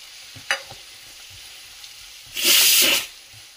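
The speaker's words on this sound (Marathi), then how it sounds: "तर इथे आपण आता कांदा टाकणार आहोत बारीक चिरलेला." Finely chopped onion dropped into hot oil and ghee for pav bhaji, a short loud sizzle burst after a few light clinks of a utensil.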